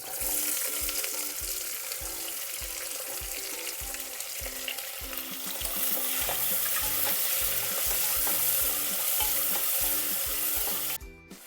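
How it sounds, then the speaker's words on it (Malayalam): Potatoes and onion sautéing in a hot pan for masala dosa filling, a continuous loud sizzle with regular scraping strokes of a spatula stirring, close and without talk. "ഉരുളക്കിഴങ്ങൊക്കെ ഇട്ട് കൊടുത്ത് ഒന്ന് വഴറ്റിയെടുക്കാം. സവാള ഇട്ട് കൊടുക്കുക."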